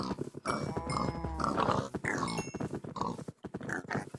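Pigs in the Minecraft video game give a few short grunts and oinks over a busy, continuous bed of game sound, moderately loud and close.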